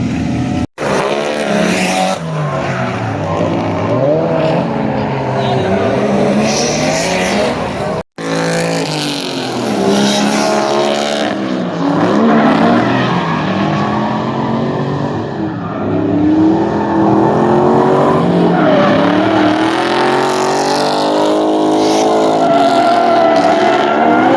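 Rear-wheel-drive converted Ford Taurus drifting at a track event, engine revving hard and tires squealing in long wavering sweeps, loud and close, with two brief dropouts in the sound.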